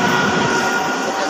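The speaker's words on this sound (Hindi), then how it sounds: "ट्रेन जाऊ देखो" A train rolls through Lakhannath Road railway station, a loud continuous rumble and rattling of wagons close by, with no talk over it.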